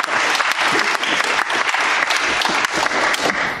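Dense, steady applause from a conference audience at a DEF CON 22 WiFi Hacking Village presentation, a continuous loud clatter of many hands filling the whole stretch without any voices.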